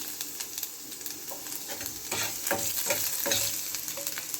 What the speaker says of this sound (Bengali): এখানে আমি আদা কুচিয়ে রেখেছি লম্বা লম্বা করে সরু সরু করে আমি দিয়ে দিলাম